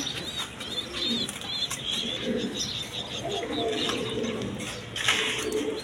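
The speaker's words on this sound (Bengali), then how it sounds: "পেশরি কবুতর, পাকিস্তানি পেশরি কবুতর" Pakistani Peshawari pigeons at a bird market coo in soft, repeated low calls, with faint chirps mixed into a busy background murmur.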